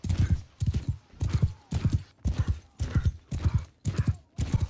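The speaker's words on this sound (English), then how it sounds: "Also on a horse that can barely outpace the infantry on foot." Horse hooves galloping in Mount & Blade II: Bannerlord, a fast, steady clip-clop rhythm of seven or so loud, close bursts with brief gaps between them, with no voices.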